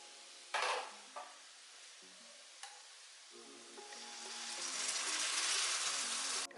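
Melted jaggery syrup strained and poured into a pan, then stirred, with a sudden splash and short clinks of utensils before a rising sizzle and scraping stir that build steadily, close by.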